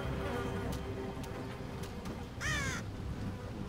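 Crows caw in a Game of Thrones video game scene, a few harsh calls over a busy ambient bed with clip-clopping and buzzing, one loud caw standing out near the end.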